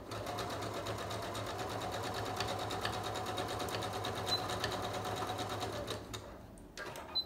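Steady, close whirring of a sewing machine stitching a taco pillow seam, running continuously before stopping near the end, followed by a few short clicks and bursts as it reverses.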